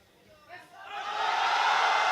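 Spectators cheer at a European classic powerlifting championship, starting quietly and swelling into a loud, sustained roar of voices and whoops.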